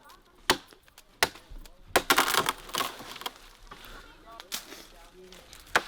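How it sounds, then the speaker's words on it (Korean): Men chopping wood with knives on a mountainside, a series of sharp, loud, irregular thwacks and splintering cracks close by, with other activity in between. "남자들은 칼을 꺼내 나무를 하기 시작합니다."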